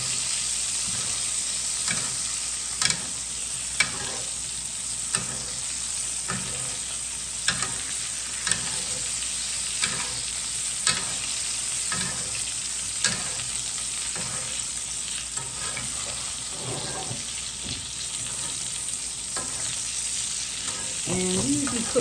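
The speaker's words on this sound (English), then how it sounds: "now I'm just going to sit here and just keep basting the meat" A rack of lamb sizzles steadily in a pan during basting, with a constant close frying hiss broken by regular clicks and scrapes of a spoon against the pan, and no talking.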